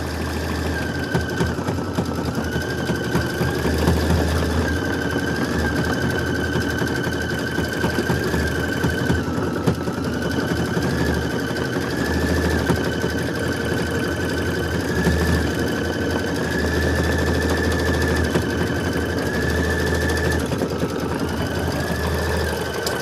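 An embroidery machine runs continuously as it stitches out a design, giving a loud, steady mechanical whir with a fast, even needle rhythm and a faint high whine throughout, with no talking.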